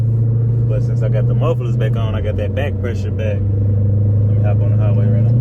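A Dodge Challenger Hellcat with a supercharger, wider tires and a Magnaflow exhaust with mufflers fitted, its engine rumbling and revving steadily under continuous talk from the driver inside.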